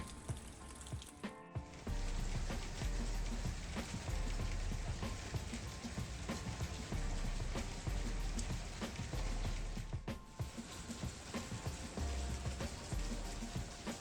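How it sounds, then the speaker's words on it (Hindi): Light drizzling spring rain falling steadily outdoors in Canada, a continuous soft patter on surfaces that briefly drops away twice before resuming, with no voices. "आज के दिन की शुरुआत हो रही है इस रिमझिम बरसात के साथ"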